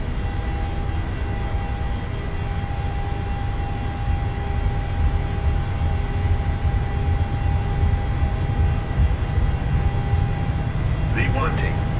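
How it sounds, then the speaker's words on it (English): Airliner engines spooling at takeoff power in a flight simulator game, a loud steady roar with a constant whine tone throughout, and a short electronic chirp near the end. "Takeoff power set, airspeed's alive."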